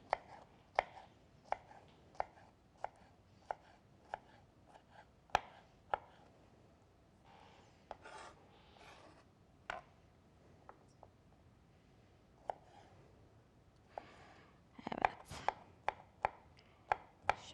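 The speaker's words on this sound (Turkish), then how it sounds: "Şöyle güzel bir şekilde ufak ufak doğruyorum." Rapid knife chopping of vegetables into fine pieces on a cutting board, a steady series of sharp taps with a quick flurry near the end, close and clear.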